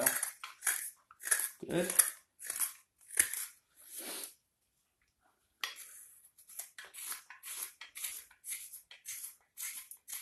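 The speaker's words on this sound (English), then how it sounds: "I want to be careful that I'm not splitting the wood as I'm going to cut it off" Hand carving tool hollowing out a wooden flour scoop, giving sharp scraping and cutting strokes in quick irregular bursts, close up, with a brief pause midway and a short spoken word.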